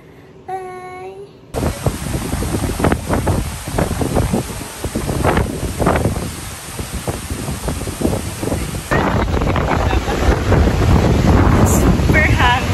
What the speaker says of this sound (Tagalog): Super hangin.